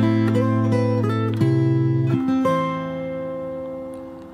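Fingerstyle acoustic guitar plays the first bar of the intro to a song, a few plucked chord changes that then ring out and decay, played solo and close.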